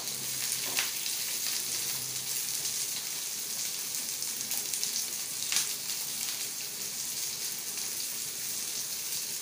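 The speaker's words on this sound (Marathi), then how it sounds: "कांदा छान फ्राय करून घ्यायचा आहे." Chopped onion frying in a little oil in a pan gives a steady, close, bright sizzle with faint scrapes and a couple of sharper crackles, and no voices.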